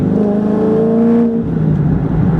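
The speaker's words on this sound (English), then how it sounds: "love the sound of that V8" A Chevrolet Corvette Z06 V8 engine idles and runs at low RPM, a loud, deep, steady burbling drone heard close with a slight change in pitch partway through.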